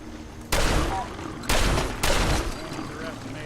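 Bursts of gunfire from a firefight in Fallout 4's Far Harbor expansion, three sharp loud volleys about a second apart over a steady background hum, with a voice speaking faintly underneath.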